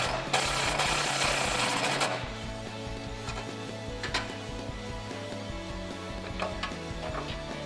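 A Jeep Wrangler JK grille guard has its bolts tightened onto the bumper: a burst of rapid mechanical ratcheting for two seconds, then quieter scattered clicks and clanks of tools at close range.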